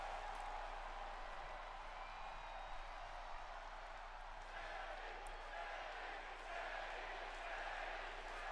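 A steady wash of arena crowd noise from the WWE 2K24 wrestling video game, a continuous broad roar of cheering at an even level that runs the whole way through with no clear peaks.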